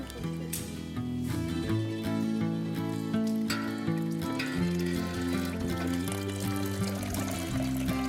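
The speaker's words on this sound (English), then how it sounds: "Dunk the grain bag in and out of the water and then lift it out to strain" Steady pouring and trickling of water draining from a lifted grain bag during beer brewing, continuous throughout, with a sustained musical tone running underneath.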